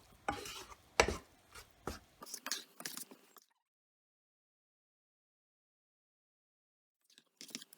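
A spoon stirs a milk mixture thickened with rice flour and powdered milk in a pan on high heat for patishapta filling. Close scraping strokes come in quick bursts for about three seconds, then fall silent before a brief return at the end.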